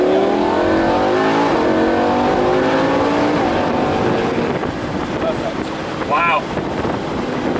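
A McLaren 570S sports car accelerates hard on a race track, its engine note climbing steadily through the gears over heavy wind buffeting, loud and continuous from inside the cabin.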